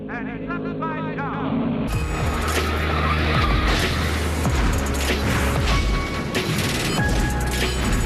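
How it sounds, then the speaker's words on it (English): A NASCAR race car crashes and flips upside down on the home stretch, with loud, sustained crashing, scraping and tire noise over roaring engines and crowd din, lasting several seconds. "Going to crash on the home stretch. A car upside down."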